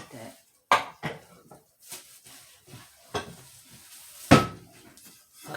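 Pots and pans clatter and clank in a home kitchen as someone rummages for pans, with sharp scattered metallic bangs at irregular intervals, close and fairly loud, between quieter shuffling.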